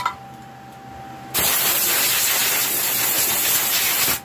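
Compressed air blowing dust off after porting a cylinder head, a faint hum abruptly cut by a loud, sustained close hiss of air lasting about three seconds before stopping.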